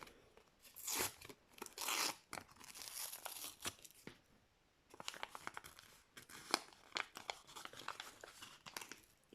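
Crinkly plastic tearing and rustling in close, sharp bursts, pausing briefly midway before more crackling handling of the packet.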